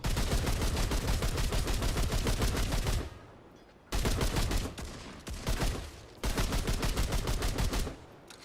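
Rapid automatic gunfire from a gun in Remnant 2, loud, sustained bursts of about three seconds each with short pauses between, dense and mechanical.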